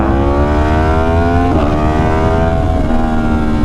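A Yamaha liter bike engine roaring steadily at full throttle in D mode, a loud continuous harmonic drone with one brief pitch dip mid-way, close and alone with no talk.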